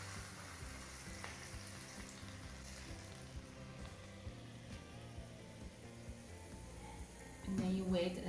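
Very hot oil sizzles softly as it is poured into a bowl while cooking Shanghai wonton dumplings. A faint, steady crackle continues throughout, with a brief louder splash near the end.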